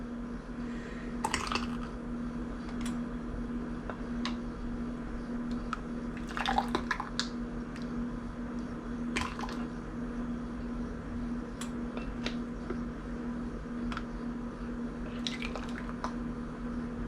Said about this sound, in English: we're going to go ahead and fill the jars